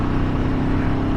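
A scrambler motorcycle throttling up in sixth gear: a steady engine hum with a whirring drone, heard close and unbroken for a brief moment.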